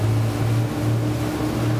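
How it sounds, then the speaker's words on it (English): Motorboat powered by three 400HP Mercury Verado outboards cruising around 40, a steady loud low engine hum with continuous water and wind noise, no talk. "Listen to those Mercury's hum."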